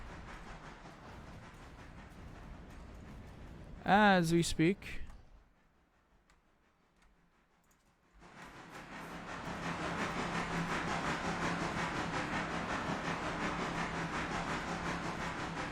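A passenger train in the Railroader video game rolls into a station, its steady rumble and clatter dropping away briefly before returning as a broad hiss, while someone talks over it.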